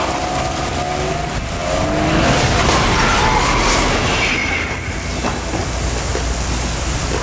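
A train runs along the railroad tracks near an outdoor film set, its steady rumble and rolling wheel noise swelling toward the middle and holding at a constant level, with a faint tonal whine on top.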